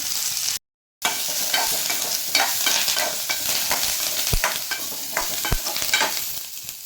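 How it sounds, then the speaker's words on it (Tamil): Onions, garlic and curry leaves frying in oil in a clay pot, a steady close sizzle broken by scraping stirs and a few sharp spoon taps on the pot, with no talk. "வெங்காயம் பாருங்கள் ஓரளவுக்கு நல்லா வதங்கிடுச்சு"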